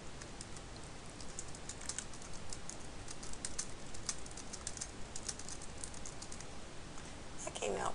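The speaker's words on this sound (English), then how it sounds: "we're ready to go ahead and type" Typing on a computer keyboard produces light, quick key clicks in an irregular rhythm, faint and close over a soft background hiss.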